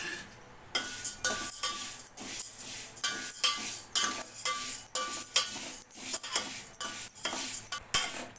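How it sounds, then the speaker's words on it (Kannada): Vermicelli roasting in ghee is stirred with a metal spoon in a pan, producing regular scraping clinks against the metal at a steady rhythm over a faint sizzle, close and clear with no talk. "ಶಾವಿಗೆ ಫಸ್ಟ್ ಸ್ವಲ್ಪ ಹುರ್ಕೋಬೇಕು"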